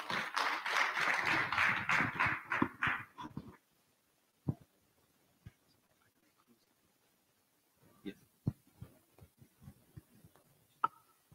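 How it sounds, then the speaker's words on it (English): A conference audience bursts into dense, loud applause for about three and a half seconds, then it thins to a few scattered claps and taps in a quiet hall. "Please, another round of applause for him."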